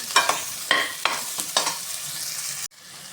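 Green chillies, onion and tomato sauté in a pan over a constant sizzle. Several spatula scrapes come in an uneven rhythm, and the sound cuts off abruptly near the end, with no talking.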